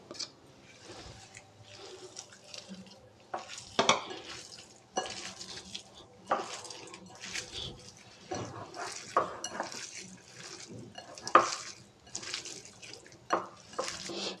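Onion, dried red chilli and coconut for a cucumber chutney being mixed and lightly crushed in a bowl, with irregular knocks, scrapes and clinks of a spoon against the vessel over quiet background.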